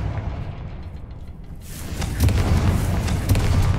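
In the Hogwarts Legacy video game, a Confringo fire spell goes off with a deep booming blast that swells midway and rumbles on to the end, loud and close, with no voices.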